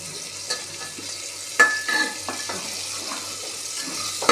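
Chillies roast in a little oil in a pan, heard as a soft, close sizzle broken by sharp stirring clicks and scrapes of the spatula against the pan.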